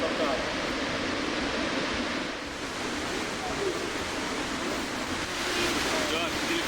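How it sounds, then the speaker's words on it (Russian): Horseshoe Falls at Niagara, about 57 metres high, pours down in a dense, steady roar of falling water that holds constant and loud throughout, like broad surf or rushing wind with no pauses. "Огромные потоки воды, падая с высоты, создают такой плотный туман"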